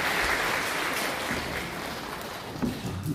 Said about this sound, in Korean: 인사할 때 뜨겁게 격려와 축복의 박수 부탁합니다.